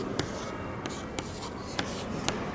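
A determinant being written out by hand during a matrices lesson: a continuous scratchy writing texture punctuated by several sharp taps of the pen or marker, close and fairly clear.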